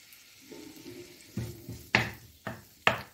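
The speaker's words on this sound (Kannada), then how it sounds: "ಈಗ ಈ ಸಣ್ಣ ಈರುಳ್ಳಿಯನ್ನು ಸಣ್ಣದಾಗಿ ಹೆಚ್ಚಿಟ್ಟಂತ ಈರುಳ್ಳಿಯನ್ನು ಹಾಕ್ಕೊಳ್ತಿದ್ದೇನೆ ನಾನು" Chopped small onions drop into melted ghee in a pan and start to sizzle for paneer masala, a few sharp clattering hits and splashes over a faint frying hiss, close and fairly quiet.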